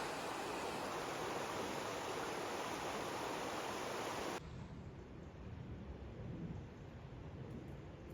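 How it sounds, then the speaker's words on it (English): A river flows steadily along a smoky Pacific Crest Trail section between Packwood and Snoqualmie Pass, its broadband rushing loud and close at first, then softer and more distant after an abrupt change partway through. "Pretty awesome river here."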